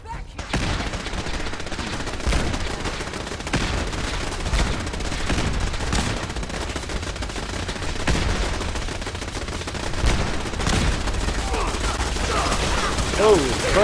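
Rapid gunfire from a Fallout 4 firefight rattles on without pause, dense bursts of shots layered over one another, loud and close throughout.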